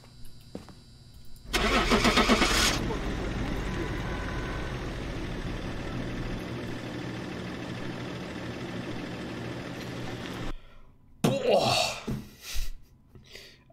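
A vehicle engine in the horror game Phasmophobia cranks and catches, then idles with a steady mid-pitched rumble for several seconds before cutting off; a voice reacts loudly just afterward.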